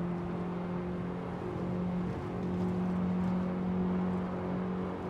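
A BMW 325 E30 Touring accelerating on the Nordschleife gives a steady in-cabin engine drone with a strong, even hum, held under constant throttle with no talk.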